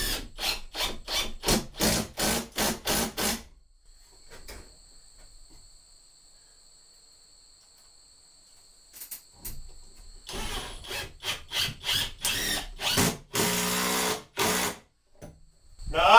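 Screw being driven by a power drill into a countersunk pallet-wood 2x3 for a deer blind wall, loud bursts of whirring and grinding in rhythmic pulses before a quiet stretch, then more driving that grows louder toward the end.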